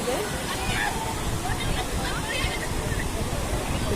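Waterfall at a hillside picnic spot on a Daringbadi tour, a steady broadband rush of falling water filling the whole clip, close and constant, with faint voices of people in the background.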